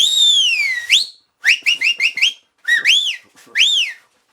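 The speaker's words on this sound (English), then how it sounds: "learn how to whistle with my fingers" Sharp finger whistles from a dog owner calling a dog: a long sweeping call, a quick run of four short chirped blasts, then two rising-falling whoops, loud and close with no talking.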